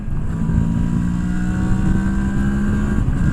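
Moto Morini X-Cape adventure motorcycle revving in third gear at higher RPM, a loud, steady engine drone with a clear rising harmonic whine held throughout, close to the rider.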